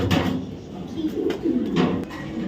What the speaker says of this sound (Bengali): এগুলো হলো প্রুভেন জেনারেশনের কবুতর